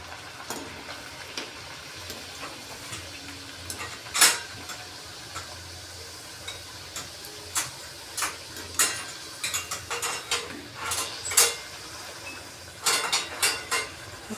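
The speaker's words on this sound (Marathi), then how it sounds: "आपण त्यात आता ह्या लाटलेल्या पुऱ्या तळून घेणार आहोत." Rolled spinach puris deep-frying in hot oil, a low steady sizzle broken by irregular crackles and pops that cluster more densely toward the end, with no talk.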